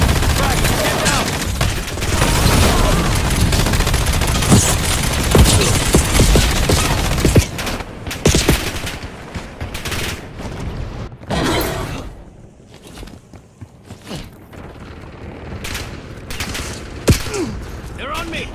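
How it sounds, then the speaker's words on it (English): Dense video game gunfire in a combat scene, a loud rattling fusillade of rapid shots for the first several seconds, then sparser scattered bursts and impacts. "Incoming fire!"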